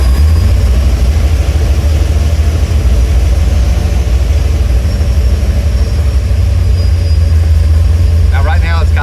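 A car engine fitted with mufflers and an exhaust cutout runs loud and close, a deep rumbling idle with a heavy low throb that stays steady throughout as the gas is touched.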